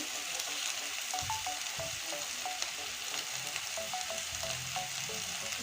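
A vegetarian mix of vegetables sautés in a pan with a soft, steady sizzle, quite faint overall, and light scraping taps of stirring scattered throughout.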